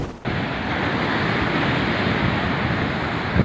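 Heavy surf during a typhoon on the coast of Pagudpud, Ilocos Norte, where strong waves broke part of a seawall, heard as a loud, constant roaring wash of water and wind with no voices.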